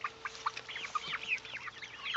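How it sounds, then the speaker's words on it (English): Domestic fowl clucking near a home, a rapid run of short chattering clucks close by, steady and fairly soft with no talk. "That's a rooster right there."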